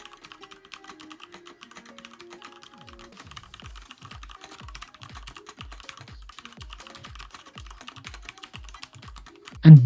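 Quick, crisp keystrokes on a computer keyboard, a steady run of light clicks close by with no talk, ending in a louder final tap.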